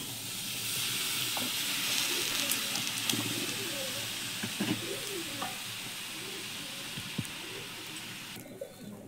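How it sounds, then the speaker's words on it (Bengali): Warm water poured into a hot clay pan holding aksa pitha rice cakes, giving a broad steady sizzle and hiss that fades slightly toward the end, with faint birds cooing in the background. "এবারে আমি জল দিয়ে দিচ্ছি, উষ্ণ গরম জল"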